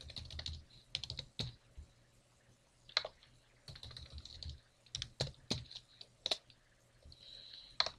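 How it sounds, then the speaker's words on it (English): Fingers typing a password on a computer keyboard, quick clusters of close, crisp key clicks with short pauses between bursts. "I'm just going to type in a bit more complex password"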